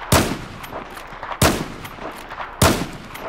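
Three loud, sharp rifle shots from a fast lever-action rifle in Battlefield 4 ring out about 1.3 seconds apart, each with a brief decaying tail and no talking.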